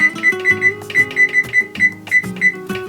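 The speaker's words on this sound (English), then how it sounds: "Set the timer." An oven timer beeps rapidly as it is set for baking a vegetarian lasagna, a loud, regular run of short electronic tones with button clicks, close and alone.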